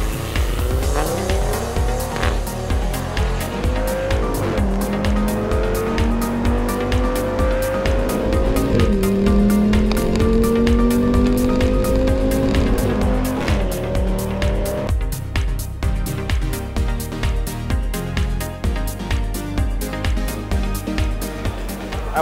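An Audi RS3 accelerating hard, its engine note climbing in pitch through repeated surges and gear changes, loud and close throughout, with brief tire squeal mixed in.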